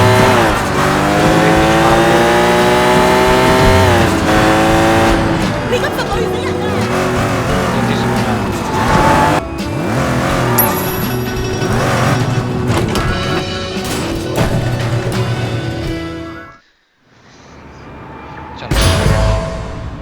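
Car driving in Sleeping Dogs, a stash car loaded with drugs, its engine droning steadily under game music and voices for most of the stretch, cutting out briefly near the end before returning.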